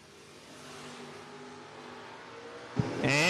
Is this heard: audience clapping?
no